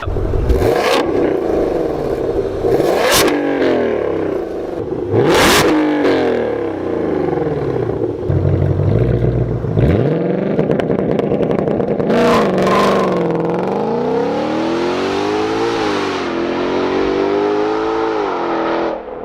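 A car engine revs repeatedly, climbing and falling in pitch through several loud revs, then a longer sweeping rev, close and alone.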